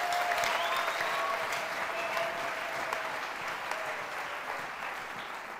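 Church congregation in Goma, North Kivu, Congo, applauds steadily, a dense continuous patter of many hands, moderately loud and fading slightly toward the end, with no speech over it.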